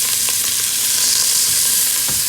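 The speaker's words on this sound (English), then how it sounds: "I'm going to leave these to sear" Beef cheeks sear in a hot pan with a loud, constant hiss and spitting crackle, close up and uninterrupted, with no talk.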